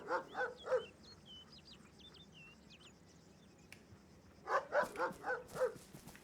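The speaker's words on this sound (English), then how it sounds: "I hear barking." A dog barks at a distance outdoors during a training exercise, in two short bursts of several barks separated by a quiet gap, with faint bird chirps in between.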